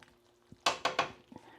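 A spoon scrapes and clanks three times against a pan of buttered chicken, sharp close metallic stirring strokes over an otherwise quiet, faint background, no one talking.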